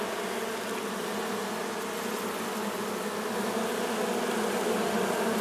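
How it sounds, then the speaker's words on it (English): Honeybees nesting inside an owl box give off a dense, steady buzzing drone, close and continuous throughout, with no voices over it. "Very well behaved bees."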